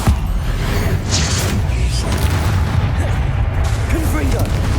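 Confringo blast spells explode repeatedly in Hogwarts Legacy during a troll attack, a dense, loud barrage of booms and crackling impacts running continuously under game noise, with a voice shouting throughout.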